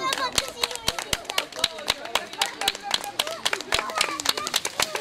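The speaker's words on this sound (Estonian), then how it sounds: "Ja võtame aplausiga vastu." A small group claps steadily to welcome a cyclist arriving at the finish of a gravel grinder race. The sharp, fairly close claps run throughout while voices talk over them.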